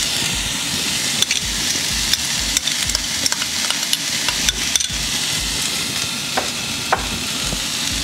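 Mixed vegetables, potato and lentil rice are stirred in a hot pan, giving a constant sizzle with scraping and occasional clacks of the spoon against the pan, steady and close throughout.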